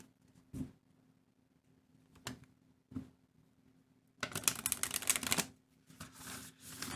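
Tarot cards in plastic sleeves make a few scattered close clicks, then a dense rustling burst of shuffling and a short final flurry.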